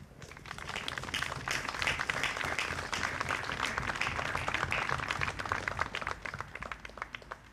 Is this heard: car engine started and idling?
no